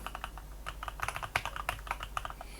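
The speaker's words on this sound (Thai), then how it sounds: "ลองพิมพ์สัมผัสนิดนึงนะครับ" Typing on an AJAZZ AK680 mechanical gaming keyboard: a quick, irregular run of close, crisp key clicks and clacks, fairly quiet, with no voices.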